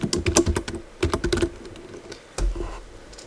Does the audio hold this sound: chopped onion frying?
no